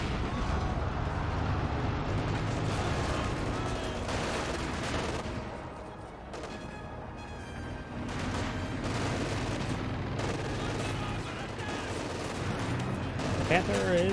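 Dense gunfire and artillery from a Company of Heroes 2 battle with Conscripts, Panzer Grenadiers, a Panther and mortars: continuous rattling volleys and heavy thuds fill the whole stretch, loud and steady, with a brief lull midway and a sharp crack near the end.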